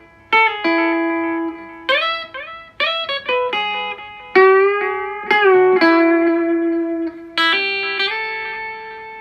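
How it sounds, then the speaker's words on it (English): Electric guitar notes plucked through a Roland CUBE 10GX amplifier's delay effect, each note repeating and ringing out in layered echoes, clear and prominent with no talking. "So you can hear some delay effect going on"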